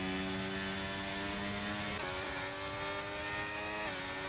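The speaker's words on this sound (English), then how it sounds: "I don't know why he's revving out gear 2 at the moment." In a Las Vegas Grand Prix racing video game, a race car engine revs hard in second gear and holds a high, buzzing drone, with two quick pitch dips as the revs drop and climb again.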